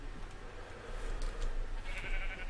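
Sheep bleat faintly inside a video game, soft calls mixed into a steady low ambient backdrop, with no voices.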